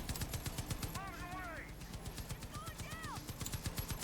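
Rapid machine gun fire in the video game Far Cry 5, a steady stream of close, loud shots running throughout, with whistling game effects and voices talking over it.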